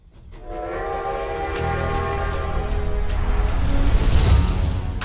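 The Mugen Train from the Demon Slayer film sounds a long, loud steam-train horn with layered tones that swells and holds over rumbling, rattling wheels.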